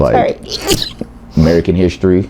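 A single sharp human sneeze bursts out amid conversational talk, loud and close, with speech before and after it.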